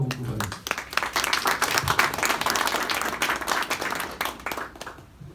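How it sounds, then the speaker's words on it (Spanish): An audience at a science lecture event claps loudly to welcome a speaker, dense close applause running steadily for several seconds before thinning out at the end. "quisiera que lo recibamos con un fuerte aplauso"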